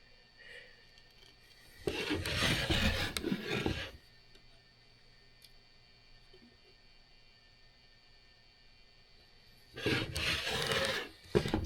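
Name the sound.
hand plane shaving wood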